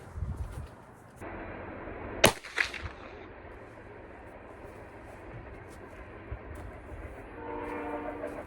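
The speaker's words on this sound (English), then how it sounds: "I'll just shoot a couple of these on this chronograph" A single sharp shot from a Winchester Model 94 Trapper lever-action rifle in .44 Magnum, firing a 315-grain load over a chronograph outdoors, cracks loudly and is followed by a brief echo over a steady background hum.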